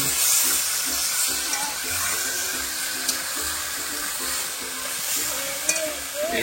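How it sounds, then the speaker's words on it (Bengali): Chicken being sautéed for kasha in a pot over a wood fire, a steady close sizzle with occasional scraping stirs and soft clinks, continuous and moderately loud. "চিকেন কষা হবে আমাদের।"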